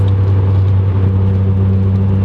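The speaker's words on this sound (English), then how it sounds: "The exhaust on this car is a straight pipe custom exhaust, so you can't really blame it for droning too bad." Steady, loud low drone of a Nissan 240SX S14 with a KA-Turbo engine and straight-pipe custom exhaust, cruising on the highway in fifth gear, heard from inside the car with a constant rumble and no talk.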